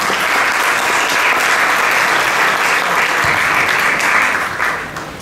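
Loud, dense applause from an audience welcoming a presidenta at a formal event, sustained evenly and tapering off at the end.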